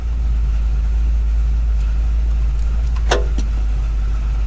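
An R-code Ford Mustang engine idles steadily at about 850 to 900 RPM with a low, constant rumble throughout, and a brief metallic jingle rises near the end.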